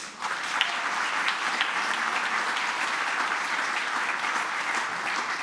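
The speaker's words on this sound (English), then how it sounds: "another big round of applause to all the people involved" A crowd claps steadily at a festive gathering of a nursing and midwifery faculty, the applause dense and continuous from start to finish at a constant level.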